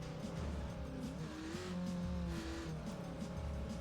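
A close, moderately loud engine drone from an ATV in the off-road racing game ATV Offroad Fury 4, its pitch rising and falling steadily as it drives, with no voices.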